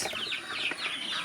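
A brooder full of 104 meat chicks only a few days old peeps constantly, with many high, quick chirps overlapping in a busy close chorus.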